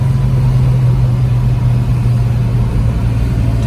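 A 1970 Boss 302 Mustang drives on a hot Michigan day, its V8 holding a steady, loud, low drone heard from inside the car, with no talk.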